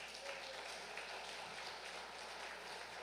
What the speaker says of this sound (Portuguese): Bata as palmas para o Senhor.